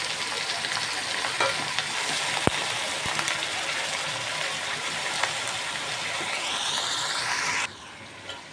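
Country chicken sizzles steadily as it fries in a pan, a dense continuous crackle with occasional clicks of stirring, ending with a sudden drop to a quieter hiss near the end.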